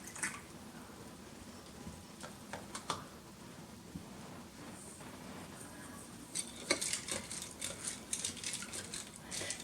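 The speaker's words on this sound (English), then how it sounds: "By stirring the beans around, I'm not only stirring up to see if some are going to end up floating" Dry beans being stirred in a glass canning jar, soft scraping and rattling with light taps against the glass, close and fairly quiet, growing busier toward the end.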